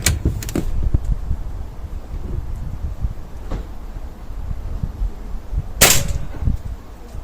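A Beeman 1357 air pistol fitted with a damaged silencer fires, giving a sharp crack near the start and another near the end, with quieter clicks and handling noise in between.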